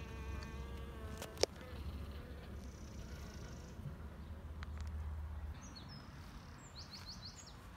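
Bees buzz steadily around an opened top bar hive, a close, continuous drone with a single sharp knock and a few faint bird chirps near the end.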